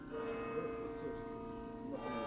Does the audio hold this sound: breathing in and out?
no